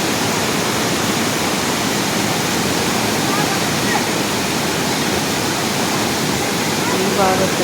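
Kalarandi waterfall roars steadily at close range, a dense, unbroken wash of rushing water filling the whole scene from start to finish with no pauses.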